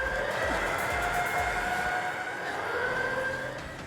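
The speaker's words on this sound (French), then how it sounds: "Quand la sirène retentit pour nous prévenir qu'il nous reste 3 minutes" A siren blares during a physical competition challenge, warning that three minutes remain; a steady, loud wailing tone sustained throughout over a busy, noisy background.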